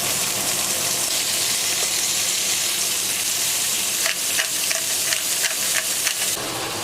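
Asparagus frying in a pan, a loud continuous sizzle and crackle with brief sharper spits and pops toward the end, close up.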